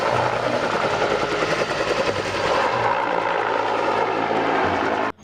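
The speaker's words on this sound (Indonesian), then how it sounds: "Wow, ada baling-balingnya juga ya. Widih, ini helikopter." A large red toy helicopter with its propeller switched on gives a steady, close whirring drone that runs without a break for about five seconds, then cuts off abruptly at the end.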